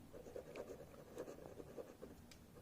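A pen writes an answer on paper during a Class 5 maths lesson. Faint, continuous scratching strokes come in small irregular pulses, close and quiet, with no speech.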